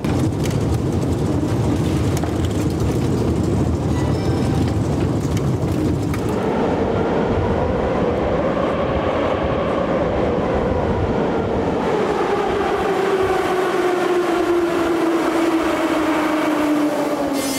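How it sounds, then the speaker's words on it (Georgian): A subway train roars loudly through a station, a steady rumble and screech that shifts into a long whining tone as it slows. "ჩვენი შემდეგი ექსპერიმენტი მეტროში გრძელდება და ვნახოთ თუ როგორია ხმაურის დონე"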